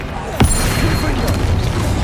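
A Confringo blasting spell going off during a duel in Hogwarts Legacy, a sudden booming hit followed by a rumbling, crackling burst, all heard under a loud voice calling out spells.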